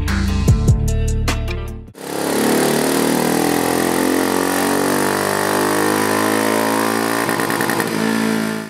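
A Royal Enfield Meteor 350 with an air-cooled, oil-cooled single-cylinder engine that has no pushrods, running on a dyno: a few stuttering blips, then a loud, sustained high rev that holds steady close by.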